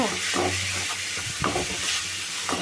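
Red chilli and peanut chutney frying in oil, a dense continuous sizzle and hiss with a few spatula scrapes spaced through it, close and steady, no voices.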